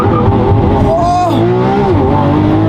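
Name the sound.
Lamborghini Aventador launch control acceleration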